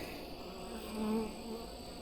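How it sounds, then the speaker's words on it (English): Honey bees buzz softly around a hive frame in a weak colony where young bees are emerging, a low steady drone that swells briefly near the middle. "So that's good to see that they're getting some fresh young bees in the hive"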